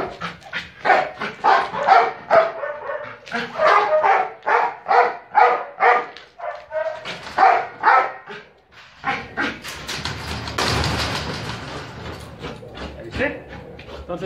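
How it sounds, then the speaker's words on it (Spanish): A dog barking on command during training, a long run of rhythmic, close, loud barks and yips with brief pauses, followed by rustling handling noise near the end. "Inicialmente vamos a buscar un ladrido, a lo mejor uno o dos."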